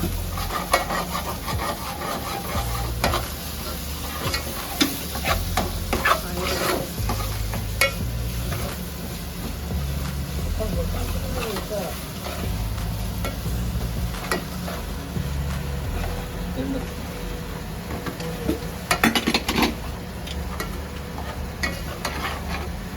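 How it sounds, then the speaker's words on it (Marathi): Coconut and onion masala paste fries in oil for a chicken sukka, a steady sizzle under repeated scraping and stirring strokes that continue close by with no talk. "मसाला बनवला आम्ही खोबरा आणि कांद्याची पेस्ट आहे पूर्ण ही आता मसाला काय करून घेतो तेल सुटेपर्यंत"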